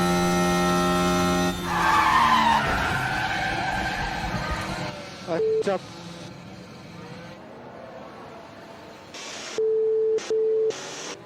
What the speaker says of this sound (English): that crash puts him out of the race